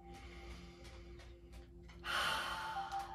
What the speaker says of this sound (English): Same thing, breathing in through our nose, out through our mouth.